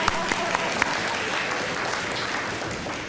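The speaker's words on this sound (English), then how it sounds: "We could clap for that." A crowd applauds at a college convocation, a dense, sustained wash of clapping from many hands with a few sharper claps standing out near the start.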